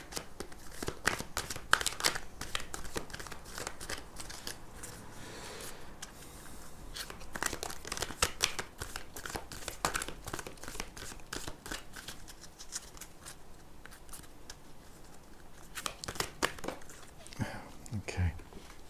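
A messy deck of tarot cards being shuffled and drawn, with dense rapid riffling, flicking and slapping of card stock that runs steadily throughout, close and fairly loud, with no talking over it.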